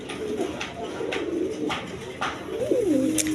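Blue bar satin pigeons in a loft, giving soft repeated throaty coos and a rolling call, close by amid faint background noise.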